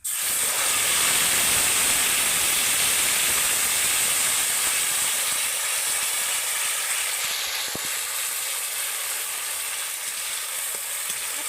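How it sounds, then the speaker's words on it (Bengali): Spice paste hits hot oil in a pan with whole garam masala and sizzles steadily and loudly the whole time, a dense hiss easing only slightly toward the end, with no talk. "এবার আমি যে মশলাটা পেস্ট করে রেখেছিলাম সেগুলোকে দিয়ে দেব তেলের মধ্যে"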